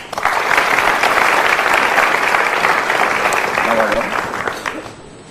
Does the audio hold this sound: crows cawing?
no